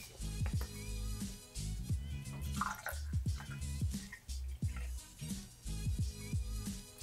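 Local gin slowly poured into a cocktail measure for a two-ounce serving, heard as a thin, steady trickle with intermittent drips over background music.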